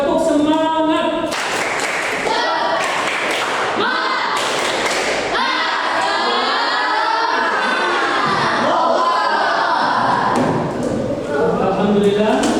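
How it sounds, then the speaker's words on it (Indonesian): A classroom of students performs a rhythmic spirit clap, with repeated sharp clap bursts and thumps mixed with loud children's voices shouting and chanting throughout. "Kita tepuk semangat terlebih dahulu ya"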